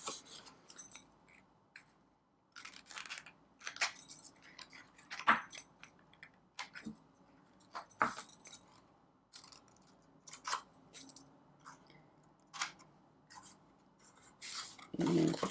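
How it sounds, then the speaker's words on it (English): Scissors snip angled miter cuts into the small tabs of a paper box, a quiet series of crisp, irregular clipping and rustling sounds close by with short pauses between cuts. "you're just going to miter, you know, like take a little angle cut here on the little tabs"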